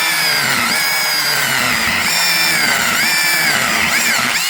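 A cordless battery saw cuts a hole through river ice for winter fishing, giving a steady high whine that keeps dipping and rising as the blade bites. Close and loud, with no talk.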